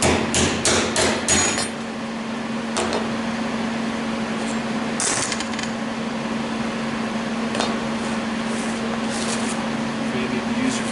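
A hammer beats on the metal parts of an Allosaurus welding kit, with a quick cluster of sharp blows at the start, then scattered single taps over a steady electrical hum.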